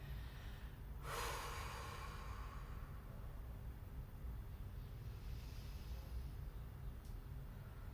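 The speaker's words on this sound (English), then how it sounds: "Let's take a couple deep breaths here." A deep breath drawn during a yoga sun salutation, one full airy rush of breath early on that fades over a steady low background hum, close and otherwise quiet.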